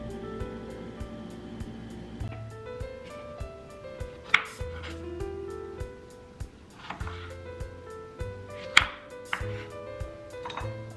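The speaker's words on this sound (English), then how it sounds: "first we're going to chop up some fresh strawberries" A knife chops fresh strawberries on a board with soft, scattered taps and a few sharper knocks, faint and close, with no talk.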